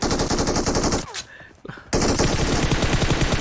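Rapid automatic gunfire in a video game shooter: loud, dense bursts with a short gap before firing resumes just as hard.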